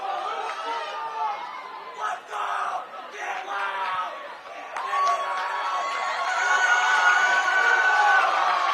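Home fans of the Lone Peak Knights boys soccer team cheering and chanting loudly in the stands during a match against Syracuse, a dense roar of shouting voices that swells and grows louder toward the end.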